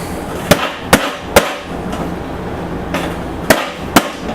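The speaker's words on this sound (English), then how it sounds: "you turn it over, and as Julia Child would say, you give it a few good whacks" An upturned angel food cake pan is whacked to release the cake, giving sharp, loud hollow knocks: three spaced blows, a pause, then two more, close up with no talk.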